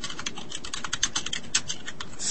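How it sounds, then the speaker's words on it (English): Rapid, steady typing on a computer keyboard, with dense clicky keystrokes close by and fairly loud, alone with no talking. "skittering across the keyboard there"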